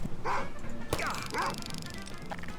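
Dog barking and yipping in the Garry's Mod DarkRP game, a few short barks close by, with players talking over and around them.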